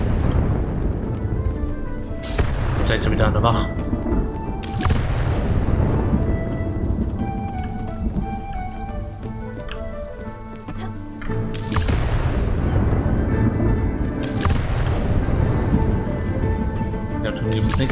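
Thunder rumbles and cracks roll through a rainstorm in the video game Spiritfarer, with several loud broadband claps over steady rain, layered under background music and someone speaking.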